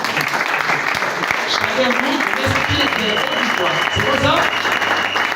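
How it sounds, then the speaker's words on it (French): Church congregation clapping and shouting acclamations, loud and continuous, with someone speaking over the applause and cheers. "tu peux l'attester par tes acclamations"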